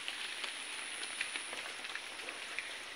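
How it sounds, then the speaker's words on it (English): Rain falls steadily outside a house, a continuous soft hiss with scattered distinct drips and patters, heard evenly throughout at moderate distance with no voices. "it's raining here outside"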